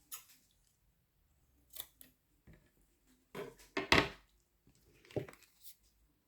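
Several short, sharp snips of scissors cutting craft material for a small handmade treat pot, spaced irregularly with quiet pauses between, close and clear.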